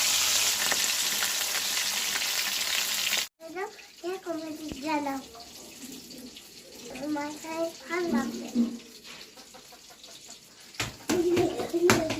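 Foli fish, freshly flipped in a frying pan, gives a loud, bright sizzle for the first few seconds, then a softer frying hiss continues under a talking voice.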